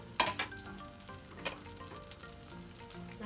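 Ginger, garlic, shallots, green chillies and curry leaves being sautéed for a Kottayam-style fish curry make a soft, low sizzle with a few quick stirring clatters near the start.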